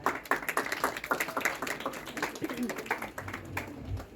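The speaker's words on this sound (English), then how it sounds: "Our science group with a great round of applause." Quiet, scattered clapping from a small group, heard under a speaking voice.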